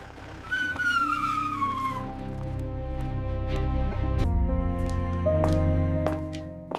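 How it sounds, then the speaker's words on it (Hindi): A car skids in with squealing tyres and comes to a stop outside a police station. Tonal music plays over it at moderate loudness and runs throughout. "तभी थाने के बाहर एक गाड़ी आकर रुकी।"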